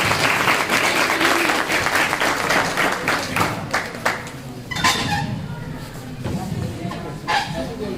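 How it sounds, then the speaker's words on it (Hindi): Audience at a school function in India clapping to welcome a 10th class student, sustained applause that gradually thins out, with voices and room noise mixed in as it fades. "एक बार तालियां बजाकर उनका स्वागत कीजिए।"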